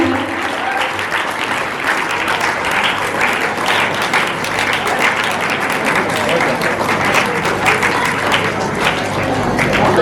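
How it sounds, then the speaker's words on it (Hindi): Loud, dense audience applause fills a stage event honouring teachers, steady clapping from a large crowd sustained throughout without a break, with faint voices mixed underneath. "सबके स्वागत में जोरदार तालियां हो जाए।"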